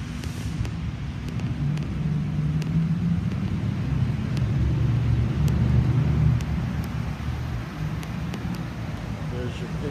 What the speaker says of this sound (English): 2013 Chevy Suburban on the test drive